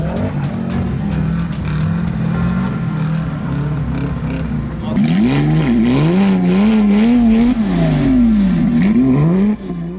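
A Subaru Impreza engine strains and revs in rising and falling surges while pulling a van on an icy road. A steady engine drone comes first, then the revving grows louder and wavers near the end.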